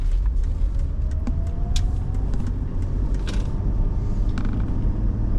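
A 1995 Mercedes-Benz E320 Cabriolet on the move, giving a steady low road and engine rumble with scattered light creaks and ticks from the cabin throughout, and no one speaking.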